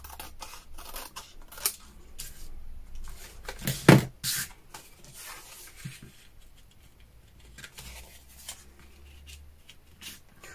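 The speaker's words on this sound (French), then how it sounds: "je vais couper un peu en bas et en haut" Scissors cut through a paper card, a few close snips and rustles with one sharp louder cut near the middle, among quiet handling noises.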